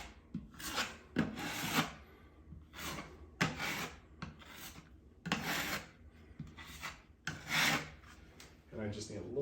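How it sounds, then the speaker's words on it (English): A drywall patch over a hole in a wall is sanded down by hand, a repeated dry rasping scrape of abrasive on joint compound, stroke after stroke at an uneven rhythm, close and fairly quiet. "really get that hole sanded down, make sure there's no excess material"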